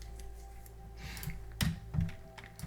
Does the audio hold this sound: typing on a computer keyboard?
yes